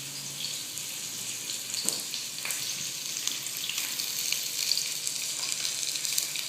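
Hot oil sizzles steadily in a pan as eggplant fries, a continuous close hiss with faint crackles and a few small clinks, and no voices.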